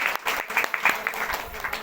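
A church congregation claps loudly in thanks during a worship service, a brief burst of dense applause with voices mixed in.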